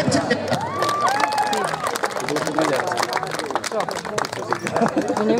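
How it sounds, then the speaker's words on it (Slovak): Audience clapping and cheering at an Extreme Trail race awards ceremony, dense steady applause with crowd voices mixed in and a voice talking over it. "A je to lepší potlesk"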